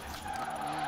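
Car skidding through a spin-out in the Forza Horizon 4 racing game, a steady engine drone with a tonal tyre squeal running the whole brief moment at moderate loudness, with no voices.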